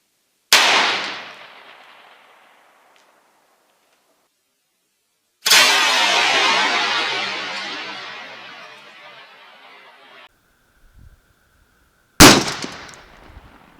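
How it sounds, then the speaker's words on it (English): .45-70 rifle fires a Buffalo Bore 380 grain mono-metal round at sheet metal, sharp loud reports with long outdoor echoing decay, separated by several seconds of silence. "third shot is going to be with the Buffalo Bore"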